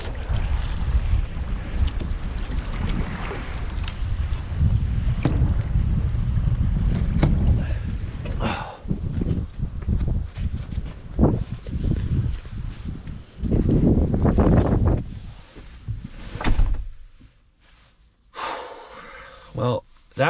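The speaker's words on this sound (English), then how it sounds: "The wind was going right through us." Strong wind buffets a fishing boat out at sea off Montauk in late fall, a roaring, gusting rush over the microphone with hull and water noise and a few gasps and breaths.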